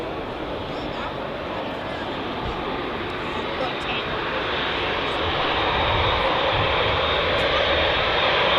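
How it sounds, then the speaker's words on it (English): An Etihad Boeing 787 Dreamliner taxiing at Manchester Airport, its jet engines giving a loud, broad, steady roar that swells slowly as it passes close by. "Here she is, the Etihad 787 Dreamliner. Gonna get a taxi right past"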